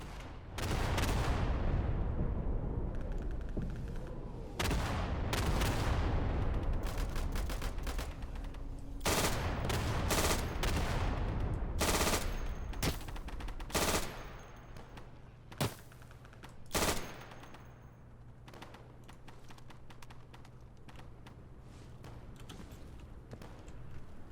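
Bursts of machine-gun and rifle fire ring out in the WWII shooter game Day of Infamy, heavy and continuous at first, then breaking into scattered loud shots separated by quieter gaps.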